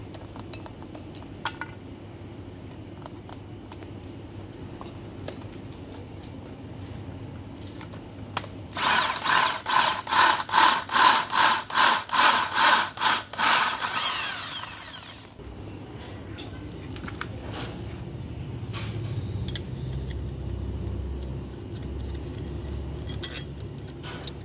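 A larger drill bit bores into material in a simple workshop. A loud, pulsing whine lasts about six seconds mid-clip, with quieter tool clinks before and after.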